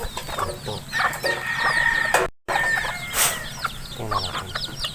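Chickens clucking continuously close by, several birds overlapping in a busy flock, with a brief dropout midway.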